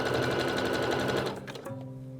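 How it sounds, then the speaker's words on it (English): A sewing machine runs a steady zigzag stitch, attaching elastic to the edge of jersey fabric for a bra, its rapid even needle clatter close and continuous before slowing and stopping near the end. "Make sure you're on a zigzag stitch and start with a little back stitch at the bottom."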